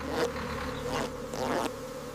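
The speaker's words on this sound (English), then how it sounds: "Bees are very active." Bees buzz at a honey farm, a close, fairly faint hum that swells in a few short passes as insects fly near, with no voices.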